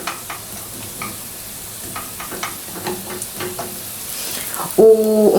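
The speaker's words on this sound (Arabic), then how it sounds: "كيخص دائما ملي نكونوا كنشحروا هاد الشريميله نحركوها باش ما تحرقش لينا او ما تلصقش" Chermoula sauce for a carrot salad is sautéed in a pan and stirred, giving a steady run of spoon scrapes and light clatter over a soft sizzle. A louder tonal squeal cuts in near the end.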